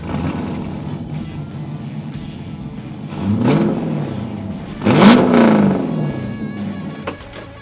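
A 1970 Chevelle with a built LS7 engine revs twice, a short throttle blip followed by a louder, sharper rev, each dropping back to a steady rumbling idle close by.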